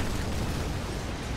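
Missile barrage explosions in the real-time strategy game Command & Conquer 3: Tiberium Wars, a dense, continuous roar of overlapping blasts and booms at steady loudness with no gaps.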